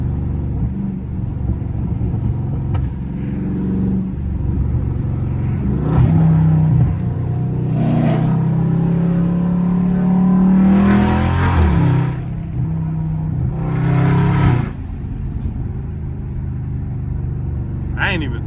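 Chevrolet Camaro ZL1 with an aggressive cam driven on the road, its engine rumbling and revving up in several surges, with crackling exhaust pops, while someone talks intermittently over the noise from inside the car.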